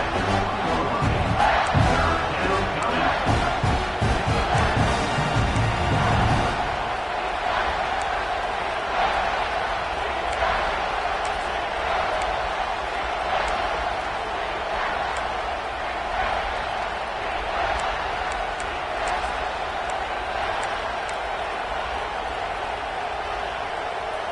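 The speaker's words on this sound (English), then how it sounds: "This crowd is trying to inspire this defense to make a big red zone stop." Crowd noise at a Penn State–Clemson college football game fills a stadium, a loud continuous roar that swells early with sharp bursts of shouting, then settles into a sustained dense din for the rest of the stretch.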